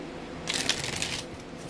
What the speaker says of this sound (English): Let me get 4 shuffles from the tarot